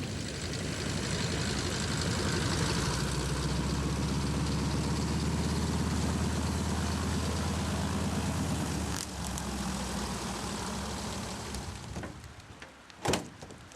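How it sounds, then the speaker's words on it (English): A small propeller plane sits on open ground after landing in Alaska, its engine running in a loud, steady drone close by that dips briefly, then ends with a couple of sharp knocks. "She flies over once to check it out, and 2 minutes later, the plane is on the ground."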